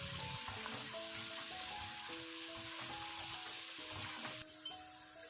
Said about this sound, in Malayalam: വെച്ചിട്ടുള്ള ഉള്ളി ഇതിലേക്ക് ഇട്ട് കൊടുത്തിട്ട് ഒന്ന് താളിച്ചെടുക്കുകയാണ്